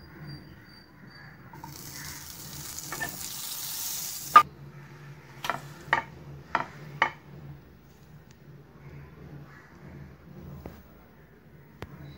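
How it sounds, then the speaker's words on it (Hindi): Bread frying in butter in a pan on low gas, a faint soft sizzle with a few sharp clinks of pan or utensil in the middle, otherwise quiet. "गैस ऑन करके इसको सिम पर रखेंगे और थोड़ा बटर डालेंगे इसमें।"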